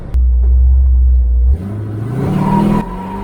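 A big block GMC truck engine runs with a deep, loud rumble at close range. The rumble shifts in pitch as the driver moves into second gear, with a brief drop in sound between gears.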